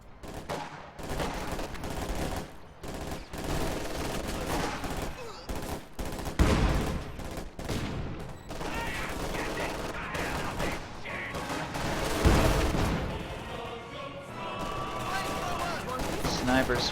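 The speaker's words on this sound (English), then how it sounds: "Snipers firing." Sniper fire and dense gunfire crackle through a war video game battle, sharp loud shots repeating in bursts over a steady rumble of combat, with occasional heavier booms.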